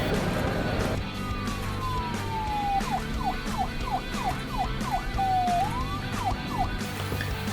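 Emergency vehicle sirens on New York City streets, a long descending wail followed by rapid yelping whoops, moderately distant over a dense backdrop of traffic and city hum.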